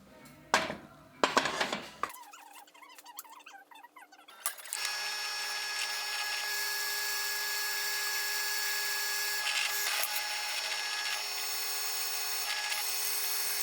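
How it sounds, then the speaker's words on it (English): A power drill bores holes in a metal parts cart, first with a few clanks and rough bursts of drilling, then a long, loud, steady high-pitched whine that stays close throughout. "I've cut my holes in here, drilled my holes in here"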